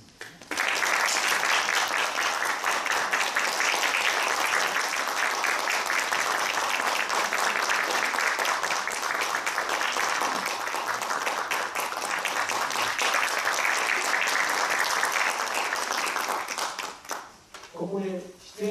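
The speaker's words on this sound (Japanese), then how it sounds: "拍手でお迎えください。" Sustained audience applause welcoming performers at the opening ceremony of a new city council chamber, a dense, loud wash of many clapping hands that fades toward the end, where a voice begins speaking.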